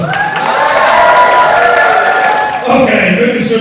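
Loud crowd applause and cheering from an audience at a comic convention costume parade, sustained throughout with a short dip near the end as clapping continues alongside some voices.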